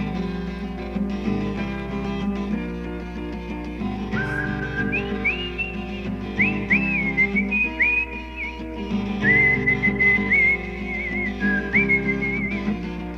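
Melodic whistling carries the tune of a played song, sustained and bending between notes over a steady instrumental backing, prominent and clear in the mix with no talking.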